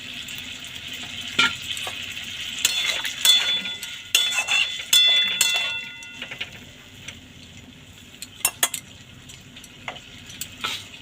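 Water poured into a pan of sizzling Nepali-style potatoes for aloo dum bhujiya, with a steady fry hiss, bursts of crackle and occasional clinks of a spoon against the pan, close by.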